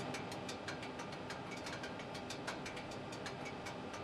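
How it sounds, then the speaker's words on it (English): Faint, irregular metallic ticks and clicks from a cooling car exhaust in the video game BeamNG.drive pop up repeatedly over a steady low hum, with no voices. "when exhaust pipes and metal parts of a car need to cool down, they make these little ticking noises"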